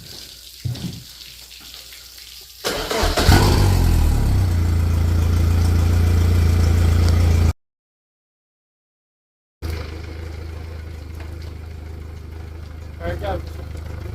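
A 2021 Yamaha VMAX SHO 115 outboard cranks over and fires up, then settles into a loud, steady run with water rushing around it. A brief silent gap is followed by the engine running again, and a person talks nearby.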